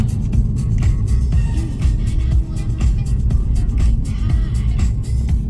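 Inside a car on Australian back roads, a dense, steady low rumble of road and tyre noise fills the cabin, constant throughout with slight dips and no clear talk.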